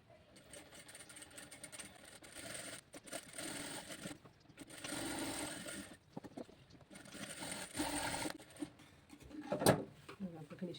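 A sewing machine stitches a blouse in short, quiet bursts of whirring separated by pauses, faint and close, with a brief sharper clack near the end.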